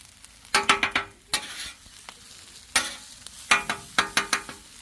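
Eggs sizzle in a hot pan while a utensil scrapes and taps against it in quick clustered bursts.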